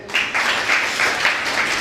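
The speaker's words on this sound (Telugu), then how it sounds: "రవికి అందరు చప్పట్లు కొట్టండి." An audience at a sermon on forgiveness claps for Ravi. The applause is loud and close, with steady continuous clapping rising in gentle waves for a couple of seconds.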